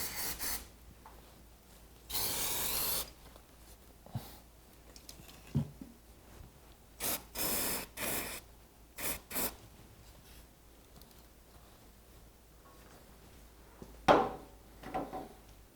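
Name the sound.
rag and brake cleaner wiping dirt off motorcycle engine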